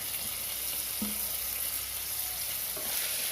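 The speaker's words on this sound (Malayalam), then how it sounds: "സവാള അരിഞ്ഞത് ഇട്ട് കൊടുക്കാം. ഇത് നല്ലപോലെ ഇനി ഒന്ന് വഴറ്റിയെടുക്കണം." Chopped onion sautéing in a pan for chicken curry, a steady soft sizzle with a couple of brief stirring scrapes and clinks, no voices.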